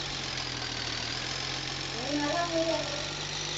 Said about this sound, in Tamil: ஐயோ, வண்டி ததக்கு புதுக்கான்னு போகுது.